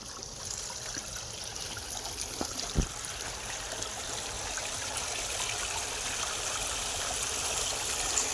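Water flowing into a field channel on a farm, a steady close gurgling trickle and rush that runs continuously, with a couple of faint knocks early on and no talk.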